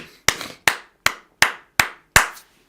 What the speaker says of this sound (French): Tu peux acclamer un peu pour la gloire de Dieu.